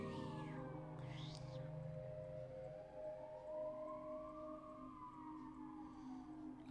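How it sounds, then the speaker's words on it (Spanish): Ambulance siren in the game Life is Strange, a sweeping tone that rises and falls over about seven seconds, moderately loud, with steady tonal hums and a bed of background music beneath it and no talk. "La ambulancia tiene que pasar justo ahora"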